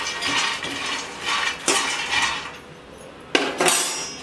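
A spoon scrapes and knocks against a metal pan while crisp fried phool makhana is tipped into a bowl, with repeated rustling scoops and a couple of louder clanks close by.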